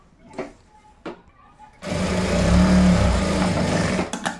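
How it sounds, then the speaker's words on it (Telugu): After a few brief voice sounds, a sewing machine starts up close, stitching a pocket onto boys' shorts. It runs in one loud, steady whir for about two and a half seconds before stopping. "ఈ క్లాత్ మీదనే ఇది ఇట్లా ఓపెన్ కాకుండా దీని మీద ఒక కుట్టు అనేది వేసేసేయండి"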